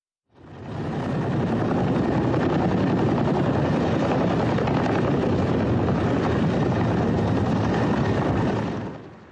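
A helicopter flies over floodwaters in Thailand, its steady, loud rotor and engine roar fading in at the start, holding constant for several seconds, then tapering off at the end.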